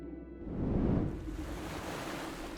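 Water washing and lapping along the shore of a lake in an animated scene, a steady broadband wash that swells briefly near the start and then settles into a continuous gentle surge, with no voices.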